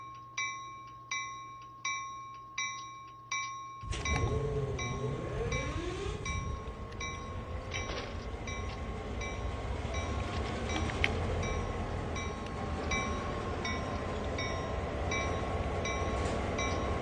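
A locomotive in Train Sim World 2 runs with a steady mechanical hum. A repeating warning chime sounds at first, then a loud, continuous rumble of engine and rolling wheels follows, with occasional clunks, and no talking.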